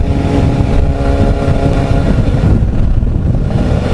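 Loud, steady exhaust roar of a Yamaha FZR 600 motorcycle, close and continuous with a sustained engine drone and no pause.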